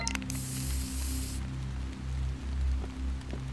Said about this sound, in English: A personal repair spray used to treat open wounds.